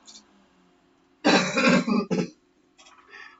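After a quiet stretch, a loud, close burst of throat clearing turns into a rough hacking cough, followed by a few softer trailing sounds.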